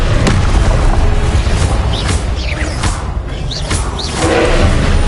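The Confringo blasting spell goes off in Hogwarts Legacy amid dense, loud, continuous combat noise, with booming bursts and swishing effects packed together throughout.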